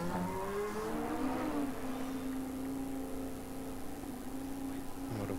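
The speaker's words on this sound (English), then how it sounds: "Sergio Perez is doing burnouts down the pit lane" A Formula 1 car does burnouts in the pit lane during winter testing at the Bahrain circuit, a continuous high engine whine rising and sustained over a steady crowd-and-commentary wash, heard at some distance rather than up close.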